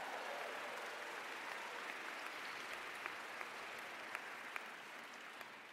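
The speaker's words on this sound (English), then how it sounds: "Audience, please applaud that." Soft, steady applause from an audience at a school closing ceremony, a continuous wash of clapping with a few sharper claps standing out near the end.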